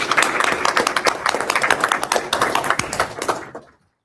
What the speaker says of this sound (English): could y'all just stand one more time so we can give y'all a round of applause?